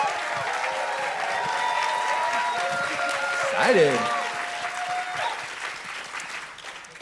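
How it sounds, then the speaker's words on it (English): An audience at a psychology conference session claps for a presenter being introduced. The steady, moderately distant applause swells briefly, then tapers off, with a voice speaking over it. "give her a round of applause"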